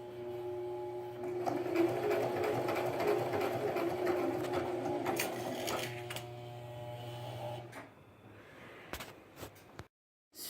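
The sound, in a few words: sewing machine stitching an apron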